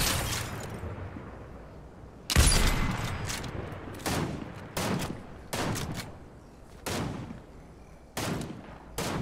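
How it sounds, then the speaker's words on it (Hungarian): Bursts of gunfire from the video game Fortnite, repeated volleys spaced every second or so, loud and sharp, with no talk over them. "Van ott, igen, ott lövöldöznek is."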